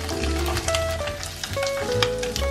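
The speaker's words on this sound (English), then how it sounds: "Put the tofu cubes into the pan." Tofu cubes fry in hot cooking oil in a pan with a steady, dense sizzle and crackle that keeps on without a break, with no talking.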